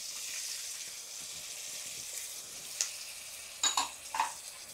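Pasta ingredients stirred in a frying pan, a soft steady sizzle with a few sharp metallic taps and scrapes of the spoon toward the end.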